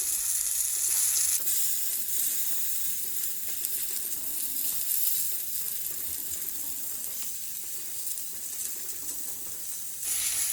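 Steak sizzling in a pan as its juices bubble out, a close, steady frying hiss that dips slightly midway and swells again near the end, with no talking.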